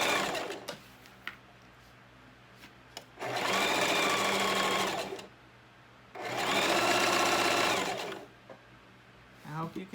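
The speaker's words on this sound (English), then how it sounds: "And proceed to sew. I'm using white thread as my contrast thread. And I'm using a zigzag." A sewing machine stitches a zigzag seam in white contrast thread, running in two loud bursts of about two seconds each, separated by quieter pauses with faint handling noises.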